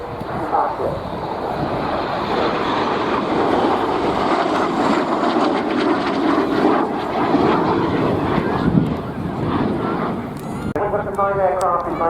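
Frecce Tricolori jets flying at an airshow make a loud, steady roar for the whole stretch, with wind buffeting the microphone and a crowd announcer talking over it.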